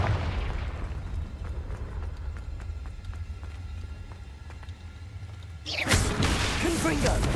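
Confringo fire spell explosion in the video game Hogwarts Legacy: after several seconds of low rumbling and soft taps, a loud, bright burst erupts near the end and rolls on as a crackling blast.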